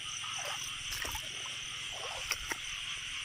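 Frogs in a rice field after rain give faint, repeated croaks over a steady hum of insects, with a couple of sharper sounds near the end.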